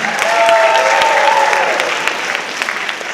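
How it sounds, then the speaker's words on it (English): Steady, full applause from the graduating class of 2021 at a high school senior awards night, with faint tonal sounds in the first half, holding throughout. "give yourselves a round of applause one more time."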